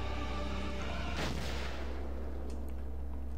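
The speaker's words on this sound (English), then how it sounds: "Explosions!" A single heavy artillery blast booms out over a continuous roar of explosions in a battle in the video game Valkyria Chronicles, loud and close.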